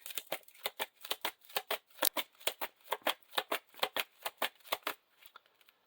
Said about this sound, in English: Then we get to shuffle a Eagle of the North into the encounter deck.